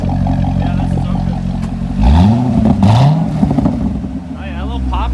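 A stock-exhaust C6 Corvette Grand Sport V8 revs hard with the cutouts open, rising in a couple of loud sweeping bursts over a steady idle, while voices talk nearby.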